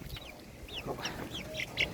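Farm chickens, with grown chicks among the flock near goats, give a series of short clucks and chirpy calls spread over two seconds, moderately faint against a low background murmur.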